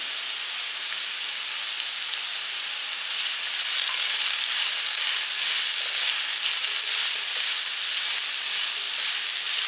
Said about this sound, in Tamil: இந்த சுரக்காய் நல்லா வதங்கட்டும் எண்ணெயிலேயே இந்த சுரக்காய் வந்து வதங்கட்டும்